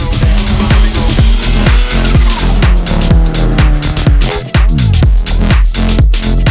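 A Toyota Celica GT-Four, a front-engine all-wheel-drive car, is driven hard: the engine revs up and down repeatedly with sharp gear changes and squealing tires, loud and close throughout.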